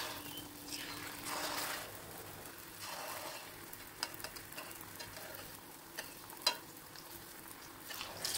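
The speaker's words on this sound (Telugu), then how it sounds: "ఒక్కొక్కటి వేసి వేయించుకోవాలి" Chimmili burelu dough balls deep-fry in hot oil over a medium flame, giving a soft continuous sizzle with occasional swells and a few sharp ticks and clinks from the pan.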